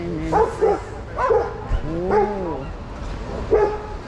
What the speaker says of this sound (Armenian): Այս շները խենց են ջղայնացել